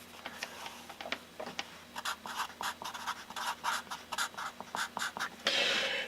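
Marker or chalk drawing straight lines on a board, a series of rhythmic scratchy strokes, some short and some long, close and fairly loud with no talking.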